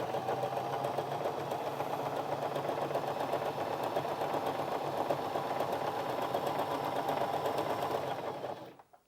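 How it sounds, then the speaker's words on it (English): A Janome J3-24 sewing machine stitches at a steady fast hum with rapid needle clatter for about eight seconds, close and alone, then winds down to silence. "So drop your needle in and pop your foot on the foot pedal."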